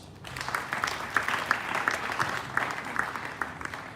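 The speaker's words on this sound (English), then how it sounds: "Clap for that." Steady applause from an audience, many hands clapping continuously at a moderate distance, with no talking over it.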